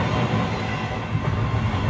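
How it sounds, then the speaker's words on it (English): A train at a railroad museum rolls along its rails with a dense, steady rattle of wheels and cars, close and continuous with no voices. "So after you're done riding the train"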